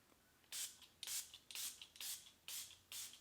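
Setting spray misted over freshly blended foundation: six short, soft hissing bursts at a steady pace, close and quiet with nothing else around them.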